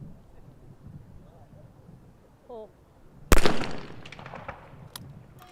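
A single sharp shotgun blast at a women's trap shooting final in Egypt, loud and close with a ringing decay and a few smaller cracks after, preceded by wind noise and a brief voice.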